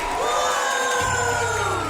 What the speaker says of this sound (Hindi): चलो सब तालियों से उनकी विदाई करो।